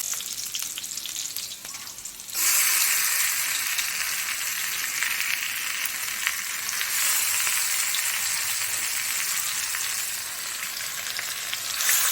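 Marinated chicken pieces tossed into a pan with fried potatoes for a curry, sizzling that jumps sharply louder as the meat hits the oil, then a steady, close hiss that continues alone.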